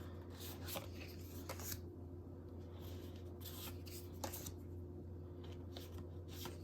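Soft riffling and shuffling of tarot cards in repeated bursts, close by, over a steady low electrical hum with no talking.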